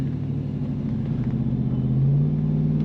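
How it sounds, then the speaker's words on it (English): The engine of a 1998 Chevrolet Tahoe 2-door Sport rumbles steadily while driving, then its pitch shifts as the transmission kicks down, heard from inside the cabin. "And the kick down is working there, as you can tell."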